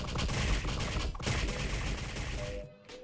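Gum Gum Gatling attack from a One Piece video game: a loud, dense barrage of rapid punching impacts rattles on for over two seconds, then cuts off abruptly.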